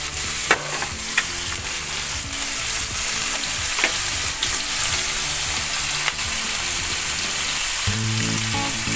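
Rice noodles (bihon) fry in a pan just after soy sauce goes in, making a loud, continuous sizzle broken by scattered clicks and scrapes of stirring, with a low background hum.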